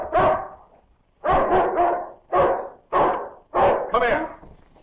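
A dog barks repeatedly in a 1942 film scene, five or six loud, close bursts in uneven groups, some doubled, with short silences between them.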